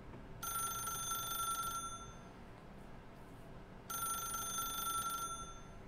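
Two bursts of an electronic telephone bell ringing in The Stanley Parable: Ultra Deluxe, each ring lasting about a second and a half with a pause between, over a low steady game ambience.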